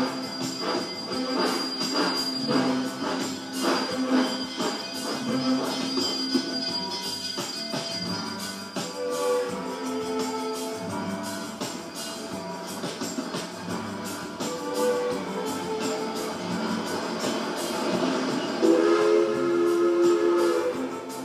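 Durango & Silverton narrow gauge steam train departing, with loud continuous rolling and clanking wheel noise, squealing rail tones throughout and a sustained whistle blast near the end.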